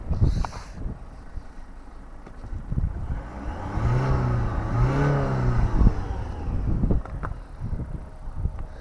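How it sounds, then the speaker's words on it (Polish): An Opel Astra engine being revved outdoors on a windy day, the note climbing and falling in a steady rising sweep over several seconds, fairly close, with wind buffeting the microphone throughout. "W ogóle czy da się to wkręcić na obroty?"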